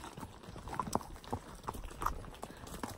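A horse's hooves clip-clop at an unhurried, uneven pace on a farm in Sinaloa, moderately near against a busy outdoor background.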